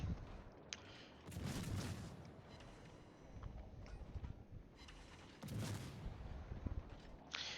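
Cruiser guns on a Königsberg in World of Warships fire in a couple of heavy, rumbling booming volleys, muffled and moderately distant within ongoing battle noise.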